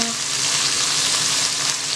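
Garlic prawns sizzle steadily in a frying pan over moderate heat, a loud, close, continuous crackle with no talking.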